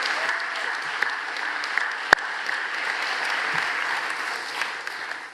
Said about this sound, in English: Can you join me in a round of applause for WFAE?